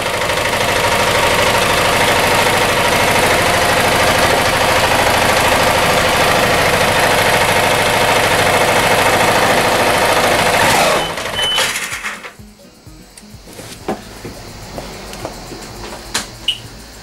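A Piaggio MP3 500 scooter engine runs loud and close with a dense, steady roar, revving up before cutting off abruptly, leaving faint knocks and handling noises; its clutch pulley had disintegrated.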